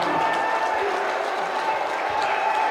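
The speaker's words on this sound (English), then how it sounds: "The crowd loves it. Very apparent by the noise in the gym." A high school basketball gym crowd cheers and applauds after back-to-back dunks on senior night, a dense roaring wash of noise that fills the space continuously, with a voice talking over it.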